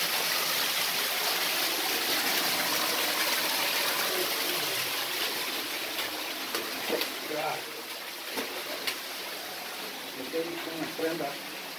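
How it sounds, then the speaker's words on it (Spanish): A small waterfall spilling from a crack inside a volcano, a steady broadband rush of falling water that fades slightly as it is passed, with light clatter and footsteps on the trail. "acá acabamos de pasar la pequeña cascada que se forma de una grieta interna de aquí del volcán"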